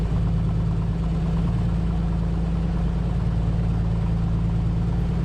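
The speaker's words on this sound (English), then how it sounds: "You can actually hear and feel that engine warming up." A simulated A2A aircraft piston engine idles while warming up in Microsoft Flight Simulator, a steady low rumbling drone with a fast, even pulse, loud and unchanging throughout.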